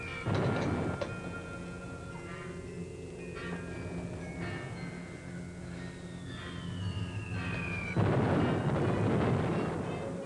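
Bombing explosions in a wartime film scene boom as heavy, rumbling blasts, with a loud burst at the start and another near the end over continuous low roaring, and no talking.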